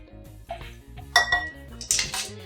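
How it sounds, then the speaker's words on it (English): A whisk clinks against a bowl while mixing vegan blood orange donut batter, with irregular metallic taps and scrapes building into a few sharper, brighter clatters near the end. "Then we're going to whisk this together."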